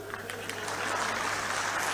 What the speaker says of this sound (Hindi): चल पाकिस्तान के खिलाफ, तो ताली बजा